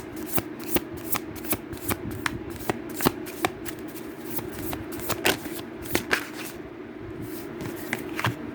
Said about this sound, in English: I guess we'll pull from this deck.